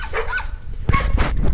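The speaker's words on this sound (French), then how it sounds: "il y en a partout et ils nous aboient dessus." Dogs barking at people passing on foot, a few loud close barks and yips in quick succession with no talking.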